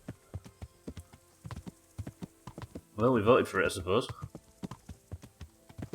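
Horse hooves clop in a steady rhythm while riding in the medieval video game Kingdom Come: Deliverance, with someone briefly talking over the middle of the hoofbeats.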